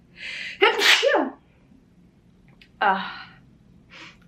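A sharp, close sneeze with a quick intake of breath, followed by a second smaller sneeze and a faint breathy sound.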